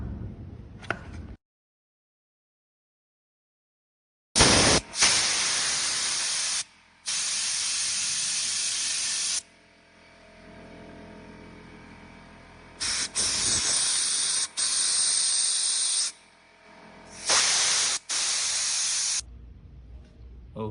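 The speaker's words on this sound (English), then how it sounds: "okay, I cleaned the carburetor and everything." Spray cleaner is sprayed on the carburetor of a 2007 Honda CRF250R in several close, loud hissing bursts of varied length, broken by pauses, with no talking.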